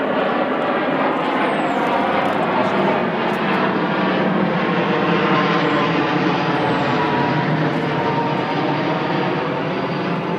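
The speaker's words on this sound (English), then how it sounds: "as soon as I start doing a video I hear an aircraft coming over." A fixed-wing aeroplane drones overhead in a steady, broad roar that holds for the whole stretch, loud and close above a garden of Erythronium bulbs, with faint birdsong threaded through.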